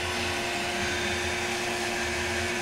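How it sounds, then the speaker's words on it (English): Lyman V5 filament extruder running slowly at about 4 RPM, giving a steady, continuous mechanical whir and hum with a constant tone, close and unbroken throughout. "Extruder is running at just 4 RPMs, which kind of amazes me it's so slow."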